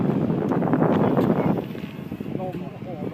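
Wind roars past in a Cessna 337 in flight, a loud steady rush that eases after the first half while voices talk over it throughout.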